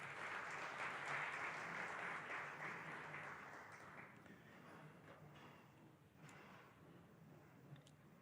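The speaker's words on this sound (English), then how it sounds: "Another round of applause." Applause from an audience at a defence event, a sustained wash of clapping that starts loud and full, then gradually thins and softens over several seconds, with no voices over it.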